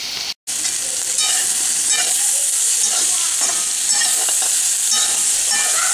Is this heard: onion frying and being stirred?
yes